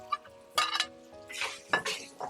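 Pork stir-fried in a wok with garlic and fermented black beans for chili pepper pork: a spatula scrapes and clanks against the metal in several sharp strokes over a faint sizzle, close up.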